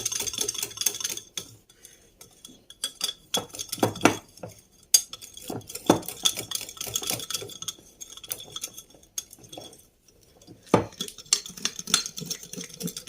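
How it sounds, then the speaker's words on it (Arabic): Ingredients such as cocoa and cinnamon being stirred in a pot to melt them, with a metal spoon scraping and clinking against the pot in irregular bursts separated by short quiet gaps. "ونقلبهم كويس ندوبهم"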